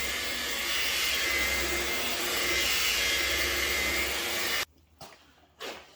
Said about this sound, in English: Whenever you're buffing scratches, you want to use a low speed.